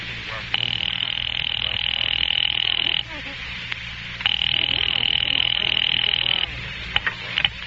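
An old 1940s telephone bell rings in two long bursts separated by a short pause, loud and close, in a radio drama.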